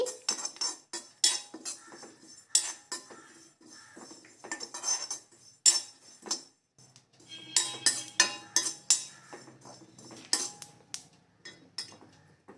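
Cumin seeds crackling as they roast with toor dal in a pan for a spice powder, heard as irregular sharp pops and clicks close by against near silence, with no voices.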